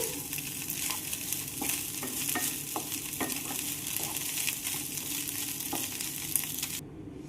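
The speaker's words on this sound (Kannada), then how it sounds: "ಈಗ ಅನ್ನ ನಿಮಗೆ ಎಷ್ಟು ಬೇಕಲ್ಲ ಅಷ್ಟು ಹಾಕಿ ಮಿಕ್ಸ್ ಮಾಡ್ಕೊರಿ" A spoon stirs and mixes cooked rice into a spicy raw-mango mixture in a pan, with steady soft scraping strokes and intermittent taps over a faint, continuous sizzle.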